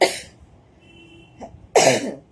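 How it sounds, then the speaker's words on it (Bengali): Two coughs, a short one midway and a harsher, louder one near the end, separated by quiet. "আবার কাশি হচ্ছে"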